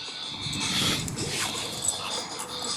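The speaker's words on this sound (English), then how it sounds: "There's the dog." A dog whimpers and yips softly through a short stretch at close range, with faint rustling behind it and no speech.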